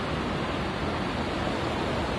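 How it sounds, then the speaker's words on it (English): Sea waves wash in a steady, even roar of broad surf noise, continuous and moderately loud with no distinct breaks or voices. "I can just hear the sea."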